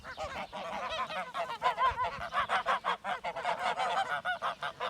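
A flock of domestic geese on a farm honks continuously up close, many loud overlapping calls in a rapid, noisy chatter.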